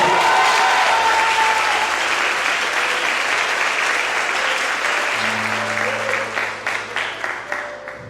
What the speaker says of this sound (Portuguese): E quem crê, dá uma salva de palmas aí para Deus.